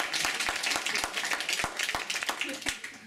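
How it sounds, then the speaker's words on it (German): Scattered clapping from a small audience at a book reading, fairly quiet and uneven with distinct individual claps, lasting a few seconds. "Applaus für Vincenzo Paulino."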